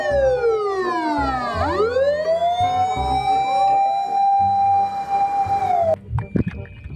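A red toy ambulance sounds its siren loud and close, a steady electronic wail that sweeps down and rises again for about six seconds before cutting off.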